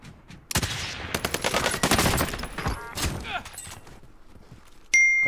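Gunfire in the shooter game Warzone 2.0: a dense, loud burst of rapid shots and impacts for several seconds, trailing off into scattered cracks, then a sudden bright electronic tone at the end.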